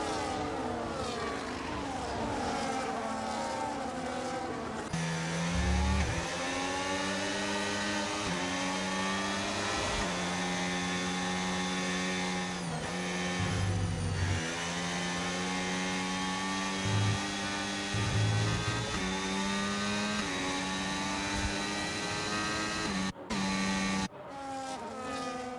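Simulated F1 race car engines at the Saudi Arabia circuit in a video game, a loud continuous high-revving whine that rises and falls through gear shifts, with other cars passing nearby.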